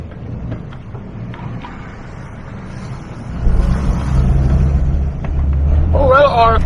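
An old Jeep with drive engaged rumbles low and steady, the engine growing louder partway through as it starts moving, while a person talks over it.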